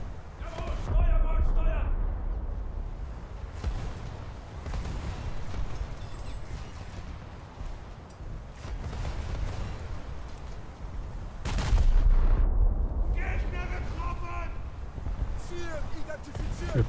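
Scharnhorst's turret guns fire in a naval battle video game, producing deep booming salvos and rumbling impacts that mostly sit under steady talk, with a louder burst of gunfire partway through.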